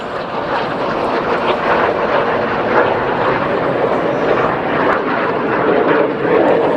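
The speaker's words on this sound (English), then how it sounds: "Look to your right hand side for the Jet Provost and Strikemaster." A Jet Provost and a Strikemaster jet fly past at an air display, giving a loud, sustained roaring rush that fills the whole stretch without breaking.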